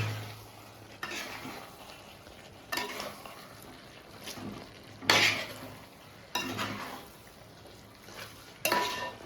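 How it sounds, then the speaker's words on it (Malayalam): Chicken chukka with onion and curry leaves being stirred in a pan: repeated spoon scrapes and clatters every second or two over a soft, steady sizzle, fairly quiet and close. "സവാള വേപ്പിലും കൂടി പുറത്തുവച്ചിട്ട് കൊടുക്കാം അപ്പോൾ നന്നായിട്ടൊന്ന് ഇളക്കാട്ടാ നമുക്ക്"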